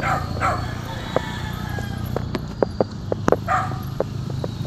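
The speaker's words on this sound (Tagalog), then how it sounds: "Ayun, may aso." A dog barks a few short, sharp times at middle distance on a rainy-morning road, scattered yips over a low background hum with some faint other noises.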